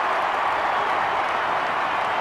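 A large football crowd at the Gabba in Brisbane roars and applauds after a goal, a steady, dense wall of cheering with no break, heard from within the stands.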